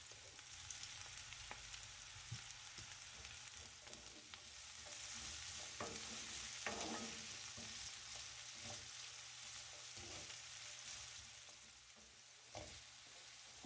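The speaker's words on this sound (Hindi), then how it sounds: "इसे भी बस मिक्स करेंगे और तकरीबन 1 मिनट के लिए पकाएंगे" Vegetables, including carrot and chopped potato, are stirred and cooked in a pan for a Turkish lentil and vegetable soup, giving a soft continuous sizzle with scattered scrapes and clicks of a spoon.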